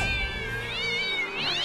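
A cat in the South Park: The Stick of Truth video game lets out a long drawn meow that rises and falls, loud and close with no talking over it.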